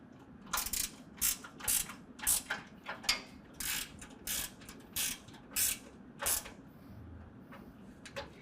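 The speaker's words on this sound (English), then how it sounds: "I'm going to use a ratcheting wrench so I can fit that in place." Ratcheting wrench tightening 13mm cross member hardware while a RealTruck Ascend rack is installed on a 2022 Toyota Tundra: a quick series of close, crisp ratchet clicks in bursts, with short pauses between strokes and no talk.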